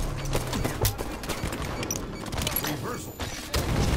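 Grenade explosions in the video game Halo 5 go off in a rapid cluster of heavy booms and crackling blasts that layer over gunfire and other game noise, loud and close throughout.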